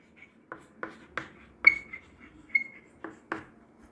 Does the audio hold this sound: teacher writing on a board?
yes